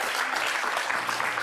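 A television studio audience applauds in steady, dense clapping that keeps the same level throughout, with no voices over it.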